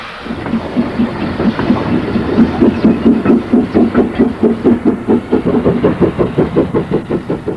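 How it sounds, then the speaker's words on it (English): A Bagnall industrial steam locomotive, one of five built for the Steel Company of Wales, chuffs in a loud, steady rhythm of exhaust beats, close by and unaccompanied by speech. "This is a Bagnall locomotive that was built to compete with the diesel market"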